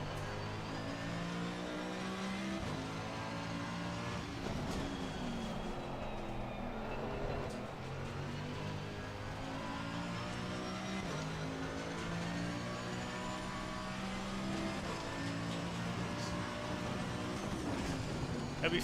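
A Mercedes-AMG EVO ACC race car drives fast on a track in a racing game, a steady droning engine note with shifting pitch as it accelerates and brakes, continuous and moderately quiet.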